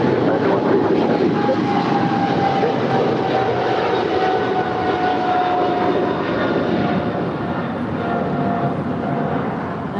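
An American Airlines heavy jet departing LAX for London Heathrow gives a sustained, broad engine roar from a distance, steady and rushing with a faint whine riding on top, slowly easing.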